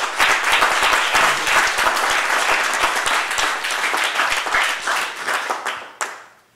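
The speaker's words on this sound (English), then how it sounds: "please give a round of applause to this panel and this moderator" Audience applauding a panel and its moderator at a tribute event for Gil Noble and Les Payne: dense, sustained clapping from a large crowd that thins out, with a few last claps near the end.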